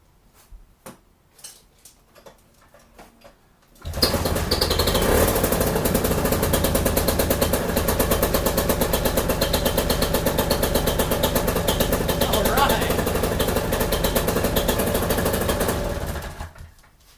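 A paramotor engine fires up after fuel priming, following about four seconds of quiet clicks and handling, then runs loud and steady at a constant drone for roughly twelve seconds before cutting off.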